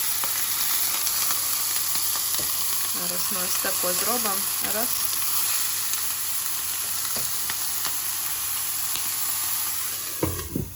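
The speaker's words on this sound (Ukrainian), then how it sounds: "І поки в мене смажиться м'ясо" Steady, loud sizzling of meat patties frying in a hot pan fills the whole stretch, with a few clinks and someone speaking briefly over it.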